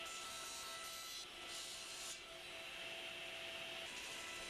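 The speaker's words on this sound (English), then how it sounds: "I label the pieces carefully and bring them to the crosscut sled to cut them to length." Steady, bright rasping of wood pieces being cut to length on a crosscut sled, one continuous loud pass with slight shifts in tone, no talk.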